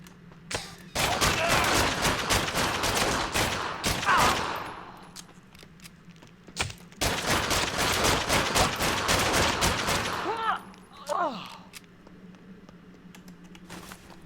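Two long bursts of rapid video game gunfire in Fallen Earth rattle in quick succession, separated by a short pause, loud and close, with a low steady hum underneath.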